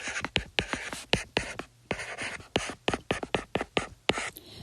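Marker or pen writing out a math function on a board, a run of close, quick strokes and taps with brief pauses between them, no talking.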